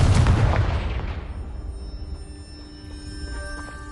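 A Confringo fire spell in Hogwarts Legacy blasts apart a pile of debris with a loud, close boom that rumbles and then decays slowly into a faint ringing tail.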